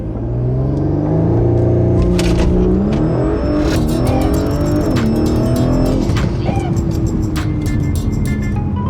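A 2022 Audi S4 with Quattro, about 500 horsepower and E85 fuel launches and pulls hard, its engine note loud and continuous with rising, shifting harmonics and a steady roar throughout.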